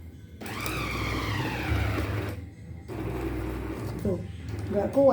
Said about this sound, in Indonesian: Blender murah nih begini ini ya.